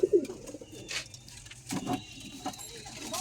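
A yellow-eyed kaldama pigeon held in the hand gives a few short, low coos, near and intermittent, with light handling rustles and faint background noise.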